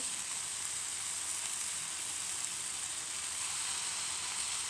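Tomatoes dropped into a hot frying pan give a soft, even sizzle that holds steady throughout, faint and unbroken, with no voices.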